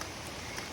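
Rain falls steadily in a forest, a dense, unbroken hiss of drops with no voices over it.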